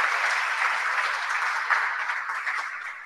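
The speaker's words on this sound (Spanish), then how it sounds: "Bueno, un aplauso." Steady applause from an audience following a portfolio and moodboard workshop talk, an even, moderately loud patter of many hands clapping for a few seconds without pause.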